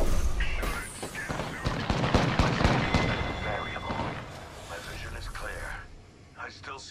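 A frag grenade thrown in the Apex Legends video game, heard amid a dense burst of gunfire and explosive booms, with voices talking over the action.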